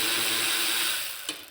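A ratchet wrench turns out blower housing screws during a Vintage Air firewall and engine prep job, giving a steady broadband clicking whir close by that fades out, ending with a single sharp tick.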